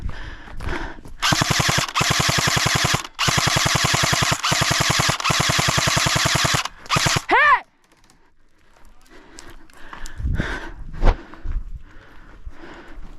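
Airsoft guns rattle off long, rapid bursts of fast, evenly spaced shots during an outdoor game, loud and close. A final quick burst is followed by a pause, then rustling and faint movement sounds.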